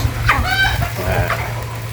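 Chickens clucking nearby, a couple of short throaty calls with a longer drawn-out cluck, over a steady low mechanical hum.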